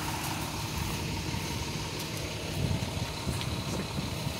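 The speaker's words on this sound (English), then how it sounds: "car backing out right now" Nearby, a car idles and creeps backward out of a spot, its low engine rumble steady and moderately loud against faint outdoor background.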